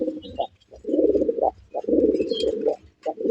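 Male Rasgolla pigeon cooing in repeated low, throaty bursts with short pauses, close and clear, with faint chirps behind.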